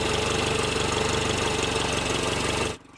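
A car engine runs at a steady, loud, throbbing drone close by, then its revs drop away abruptly just before the end.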